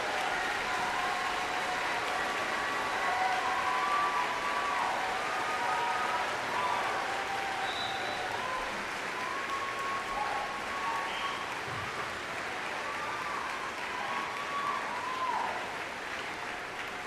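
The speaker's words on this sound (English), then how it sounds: "turn around and face the audience and get a warm-up applause" Sustained warm applause from a large audience at a 2025 high school graduation ceremony, steady and even for the whole stretch with a few faint cheers mixed in.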